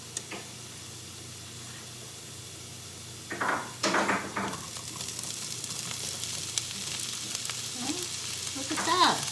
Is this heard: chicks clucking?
no